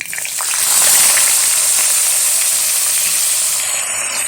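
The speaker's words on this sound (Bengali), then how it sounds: "এখন দিয়ে দেবো সিদ্ধ করে রাখা ফুলকপি, আলু, গাজর, মটরশুঁটি।" Boiled cauliflower, potato, carrot and peas tipped into hot oil after the tempering, giving a loud, close, continuous sizzle that swells in the first second and then holds steady, with no talk.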